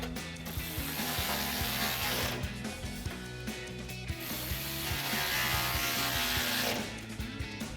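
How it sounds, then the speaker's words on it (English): A ratchet with a 10mm socket tightens two bolts on a front exhaust isolator of a 2015-2024 EcoBoost F-150, producing loud, close, rapid clicking pawl bursts in repeated strokes, broken by short pauses. "Now we'll tighten the two bolts here on this front isolator using our 10mm socket."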